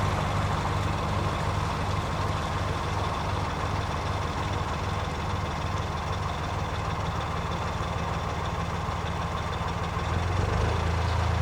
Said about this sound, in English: Boat coming now.